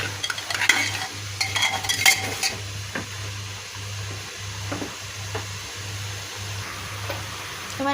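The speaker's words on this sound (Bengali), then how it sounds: "এবার এটাকে ভালোভাবে মিশিয়ে নেব।" Fish curry with chili powder stirred in a pan, a steady low sizzle with scraping spoon strokes against the metal, clattering more busily at the start, then a continuous soft frying hum with occasional clinks.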